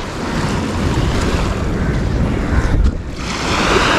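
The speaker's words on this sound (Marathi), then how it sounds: "ह्याच्यावर बसून तुम्ही हा समुद्र पाहू शकता, ह्याचा अनुभव घेऊ शकता" Sea waves wash onto a beach at Malvan on the Konkan coast, a loud continuous surf roar with rushing swells and some wind buffeting the microphone.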